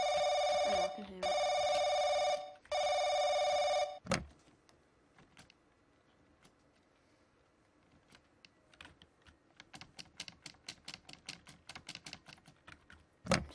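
A telephone rings loud and close in the horror game The Crooked Man, three harmonic bursts in quick succession, followed by quieter clicking and tapping sounds that grow busier toward the end.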